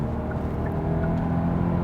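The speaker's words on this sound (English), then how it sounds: "Not annoying, not natural engine sound. This is with the sound generator system." Artificial engine sound from a 2021 Kia Optima 1.6 turbo's sound generator in sports mode, a steady low droning hum with a faint whir, heard from inside the car during a night drive.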